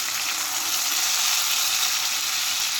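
Ripe jackfruit pieces frying in ghee in a pan on the stove, a steady, even sizzle that stays close and constant throughout with no voices.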